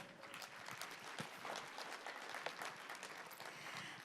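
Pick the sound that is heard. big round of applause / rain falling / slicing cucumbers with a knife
big round of applause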